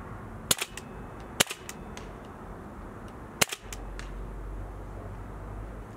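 An airsoft gun fed from a freezer-chilled magazine fires a few sharp single shots at irregular intervals, close and loud against a low background hum.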